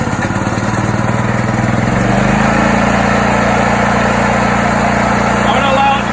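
A 7000 watt generator engine runs steadily after a recoil pull start, a loud close buzzing drone that settles into an even pitch within a couple of seconds.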